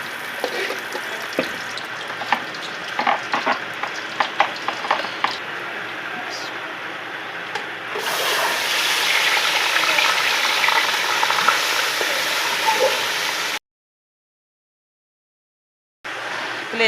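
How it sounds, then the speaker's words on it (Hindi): Beef liver (kaleji) frying in a pan, a steady sizzle with scattered clicks and stirring scrapes, growing louder and denser midway, then briefly cutting out. "कलेजी को फ्राई करके बाद में प्याज और लहसुन डालेंगे"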